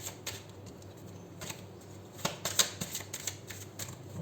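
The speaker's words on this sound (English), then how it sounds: "we'll take a couple of cards from the Romance Angel deck after 3 shuffles" Oracle cards from a Romance Angel deck shuffled by hand in a quiet room, soft papery riffles and flicks that start sparse and grow denser and louder toward the end.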